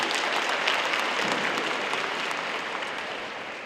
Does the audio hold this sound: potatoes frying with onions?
no